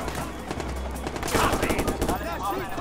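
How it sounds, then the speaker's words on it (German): Gunfire against body-armored police in the game Watch Dogs: Bad Blood: rapid, dense bursts of shots that continue without pause. "Dann schieße ich die jetzt einfach so gut es geht nieder"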